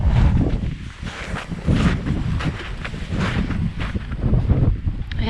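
Gusty wind buffets the microphone outdoors near an old abandoned sheepfold in a forest, a continuous low rumbling roar that swells and eases in waves throughout.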